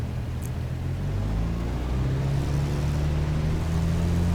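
A powerful aircraft engine idles on the runway in X-Plane 12, a steady, loud low rumble that holds evenly throughout with no talk over it.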